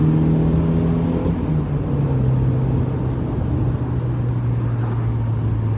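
A 1993 Mazda MX5 accelerating from inside the cabin, its engine note a steady loud drone that rises slightly in pitch over several seconds, with road and wind rumble beneath and no one speaking.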